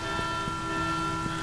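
A bell ringing in the Resident Evil 6 video game, heard as a steady, sustained metallic tone with lingering overtones, fairly loud and continuous, with a few soft thuds underneath.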